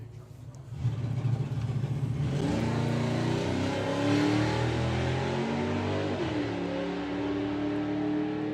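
A Camaro and a Mustang launch side by side at a drag strip, engines roaring hard from a quiet start and climbing through gears with rising pitch, loud and sustained as both cars pull away.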